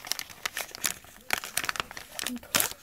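Packaging of Wiako white resin clay is torn open, with crinkling plastic and short tearing bursts in a quick irregular series, up close, while voices talk over it.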